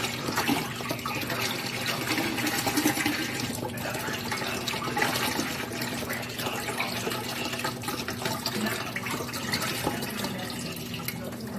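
Broth being poured into a pot of Italian sausage spinach tortellini soup, a steady, continuous liquid splashing and gurgling that runs close and fairly loud for the whole stretch without pause.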